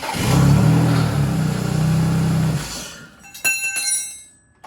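A VW Bug fitted with a BMW Z3 engine swap starts and runs with a loud, steady mid-pitched drone for about three seconds, then cuts out, followed by a few sharp metallic clanks and rattles.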